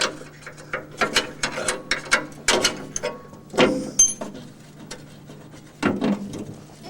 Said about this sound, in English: Remove the fittings from the master cylinder.